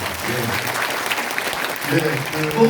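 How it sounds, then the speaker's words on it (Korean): An audience at a 2024 legislative report meeting for National Assembly member Jo Seung-rae in Yuseong-gap, Daejeon, claps in a steady dense wash throughout, with a voice speaking over the applause near the end. "박수 한번 해주시기 바랍니다."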